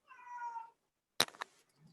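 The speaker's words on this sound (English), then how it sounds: "That's the cat." A cat gives one clear, fairly close meow lasting under a second, followed after a short pause by a sharp knock and some brief clattering.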